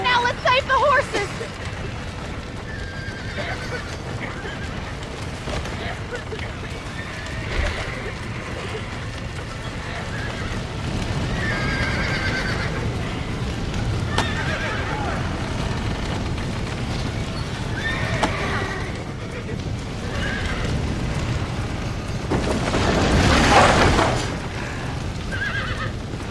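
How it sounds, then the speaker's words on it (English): Horses neighing and whinnying in the video game Red Dead Redemption, with hoof clip-clops and shouting voices over a busy action-scene background. "Now let's save the horses!"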